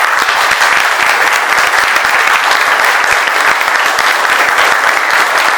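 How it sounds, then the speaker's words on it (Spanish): Dense, steady applause from a large audience honoring author Julio Majul at a book presentation, continuous and loud throughout with no pauses. "Un aplauso para Julito."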